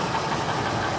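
A 2000 truck's 5.4 engine idles close by with a steady mechanical knock running under the broadband engine noise, continuous for about a second.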